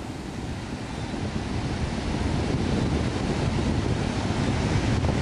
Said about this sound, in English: The waves are still pumping through, but the wind is now like side shore